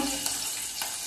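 Green chillies sizzle steadily in hot oil for dal in a home kitchen, a loud continuous frying hiss with a couple of brief sharper spatters. No speech is heard.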